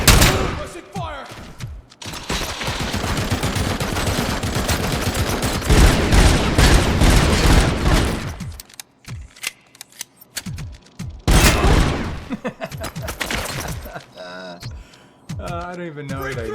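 RoboCop firing his gun in the RoboCop video game, loud rapid continuous shooting with booming hits for the first half, then sparser thuds and shots, and a voice talking at times.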